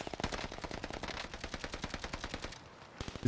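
Rapid automatic gunfire in the video game Warzone rattles off in quick, evenly spaced bursts that continue throughout, close and dense, with a brief lull near the end.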